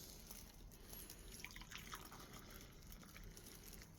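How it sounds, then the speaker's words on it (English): Coffee is poured from a coffee pot, a faint, steady trickle of liquid with soft dripping, heard quietly against background noise and without talk. "I'm pouring coffee because it's coffee time"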